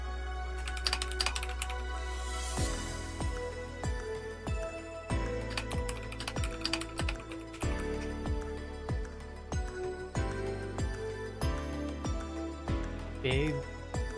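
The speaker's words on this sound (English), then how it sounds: "I don't like how my keyboard makes so much noise." Rapid clacking of a computer keyboard being typed on, a steady run of sharp key clicks close to the mic over background music.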